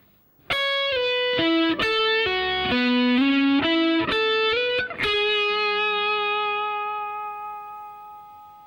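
A distorted electric guitar plays a quick melodic run of single notes, ending on a long sustained note that slowly rings out, loud and close.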